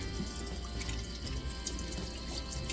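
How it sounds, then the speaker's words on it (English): Tap water runs steadily during handwashing at a sink, a continuous close splashing stream with no talk over it. "Gotta wash them hands."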